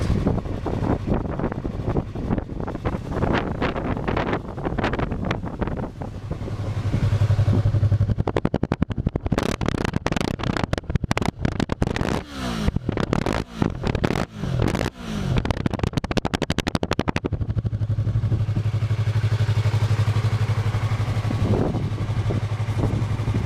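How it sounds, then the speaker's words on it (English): A Yamaha YZF-R3 320cc sports bike engine is heard on the move, a steady loud drone that surges through revs with gear changes, buffeted by heavy wind noise for most of the ride. "This pokey little engine is quite effective."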